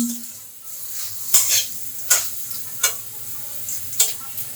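Curry sizzling in a pan while a spoon stirs it, with several sharp scrapes and clacks against the pan over a low, steady frying hiss.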